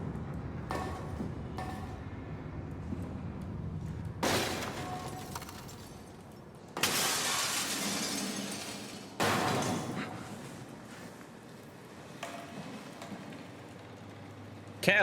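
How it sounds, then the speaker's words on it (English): Glass breaks in the video game SOMA: a few sharp, crashing shatter bursts with tinkling debris, spaced several seconds apart over a quiet, hollow background. "I'm gonna have to break that glass"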